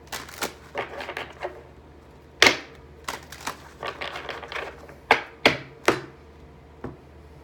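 Irregular sharp slaps and soft riffling clicks of tarot cards being shuffled, close up, in short bursts with pauses between.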